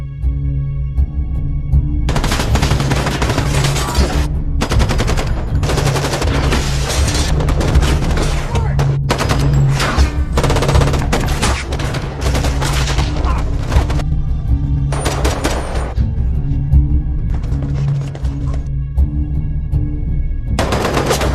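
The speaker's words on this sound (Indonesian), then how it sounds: "Disinilah adegan tembak-menembak yang tegang terjadi." Heavy automatic gunfire from a machine gun in a tense film shootout, dense bursts of loud rapid shots with booming low end and brief pauses, continuous throughout.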